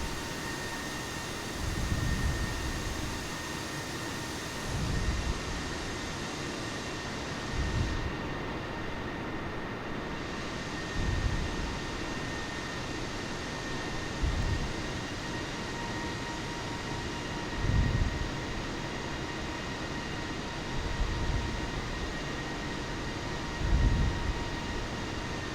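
Airbus A320neo taxiing in Microsoft Flight Simulator, a steady engine hum and cabin rumble with soft thuds recurring every few seconds as the wheels roll over the taxiway.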